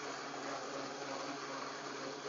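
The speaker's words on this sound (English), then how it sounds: "it's about 80, 82 decibels that the blender's making" A blender runs in a room, giving a steady, dense whirring drone from start to finish with no pauses.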